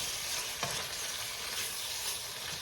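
Spicy beef empanada filling cooks in a pan with a steady, close sizzle and bubbling hiss, broken by one brief stirring scrape, with no voices.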